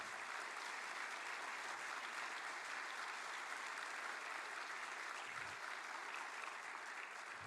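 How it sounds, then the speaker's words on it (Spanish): Congregation applauding during a Spanish-language church service: dense, even clapping from a large crowd holds steady throughout, with no break or fade. "Denle un aplauso al Señor."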